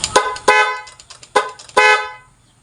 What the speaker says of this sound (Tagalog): So ngayon po mga kaidol ay testingin na po natin kung gumagana po yung busina natin